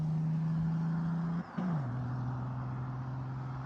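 A turbocharged OM603 diesel car pulls hard with a steady engine drone, drops off sharply for a moment at a gear change, then pulls on at a lower pitch.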